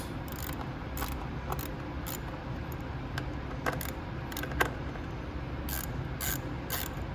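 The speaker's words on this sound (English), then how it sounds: "if you have a really long screwdriver to come in from this side, okay, it's a lot easier. Just break them all loose" A screwdriver working loose the screws on a carburetor, with repeated sharp metallic clicks and ratcheting ticks spaced irregularly over a steady low background hiss, close and moderately loud.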